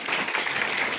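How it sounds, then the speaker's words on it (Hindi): An audience claps in a short burst at a seminar session held by a Harela chair. The applause sounds as a dense patter of many hands, fairly close and sustained for about a second, with no speech over it. "सब लोग एग्री करते हैं तो एक ताली बजा दीजिए।"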